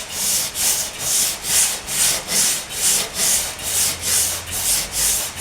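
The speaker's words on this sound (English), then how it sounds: "We've got some body filler on there, as you can see, and we're hitting this with some 80 grit." Car body filler on a Chrysler Valiant AP6 being hand-sanded with 80 grit paper, a steady rhythm of about eleven loud, close, rasping back-and-forth strokes, each swelling and fading.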